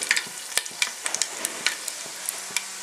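Whole spices (cinnamon, cloves, cardamom, mace and two bay leaves) crackle in hot oil with cumin, giving a close, steady sizzle broken by sharp pops and spatters throughout.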